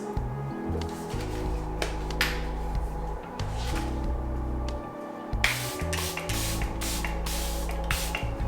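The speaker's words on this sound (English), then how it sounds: "I want to cover up like my edges when I spray because I don't want them to get wet" Makeup setting spray mists onto a face in a series of quick hissing bursts, several short sprays close up and fairly loud over a steady background hum, with no talking.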